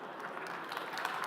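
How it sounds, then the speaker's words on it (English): An audience applauds in a steady, moderate wash of clapping that holds at an even level for the whole moment, somewhat distant, with no voices on top. "This is where you clap."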